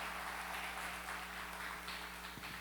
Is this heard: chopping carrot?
no